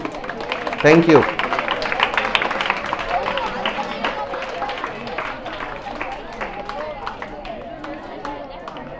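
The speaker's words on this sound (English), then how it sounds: "Give them a big round of applause, please." Audience applause for students called forward at a school Eid ceremony, a steady crowd clapping that swells briefly then continues evenly, with a short spoken thanks near the start.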